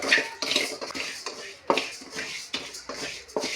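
Urad dal and raw rice dry-roasting in a pan, heard as repeated close metallic scraping and rattling of a spoon against the pan in quick uneven bursts, with no talking.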